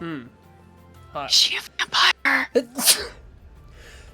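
A single sharp sneeze bursts out mid-conversation, short and fairly loud, surrounded by voices talking before and after it.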